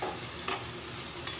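Ridge gourd sautéing in a pan, a soft continuous sizzle at close range with two brief scrapes of stirring.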